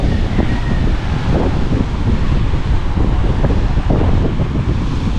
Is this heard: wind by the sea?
yes